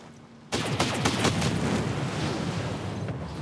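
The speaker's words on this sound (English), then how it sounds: "Explosions in this game are so beautiful" A sudden loud burst of explosions and rapid gunfire in Ghost Recon Breakpoint, crackling blasts rolling on continuously after the first hit.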